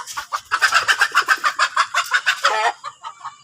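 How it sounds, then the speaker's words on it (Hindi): Chickens and roosters kept as a hobby flock alongside pigeons cluck and squawk in a loud, busy chorus of rapid overlapping calls, close by with no talk. "ये मुर्गे देखें जी, इन लोगों ने शौकिया तौर पर रखे हुए हैं, और कबूतर भी रखे हुए हैं और मुर्गे भी रखे हुए हैं।"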